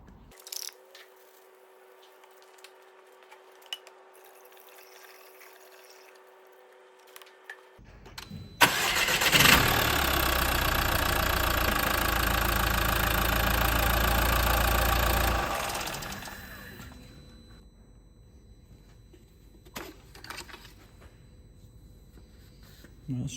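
A Mercedes A-Class 1.5 CDI diesel engine cranks and starts, running loud and rough for several seconds before cutting off, leaving quiet with faint clicks.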